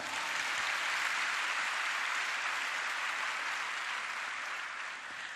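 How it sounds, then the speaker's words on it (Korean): Audience applause at a church prayer meeting, a steady dense wash of many hands clapping that holds evenly for several seconds, then eases slightly near the end, with no voices over it. "박수 한번 해주세요"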